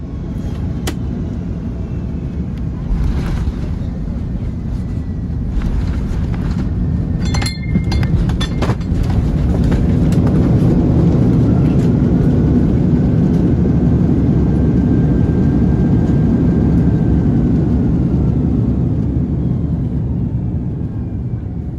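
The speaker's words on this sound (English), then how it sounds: "the big A330-300 had to brake as hard as possible to stop in time" An Airbus A330-300 touches down at Amsterdam and brakes as hard as it can on a short stretch of runway, a loud, steady low roar of engines and rolling wheels sustained throughout, with a brief clink partway and no speech.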